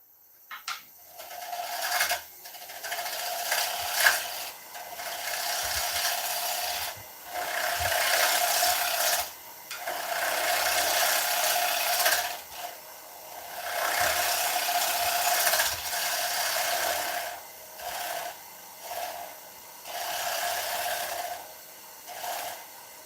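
A 3/8 bowl gouge taking light cuts on an ash bowl spinning on a lathe, giving a steady airy hiss in long passes broken by brief pauses.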